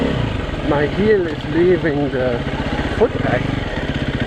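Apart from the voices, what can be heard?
KTM EXC-F motorcycle engine while shifting gears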